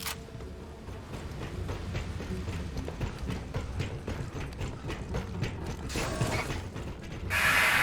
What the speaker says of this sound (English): Big freight elevator goes all the way up the main tower.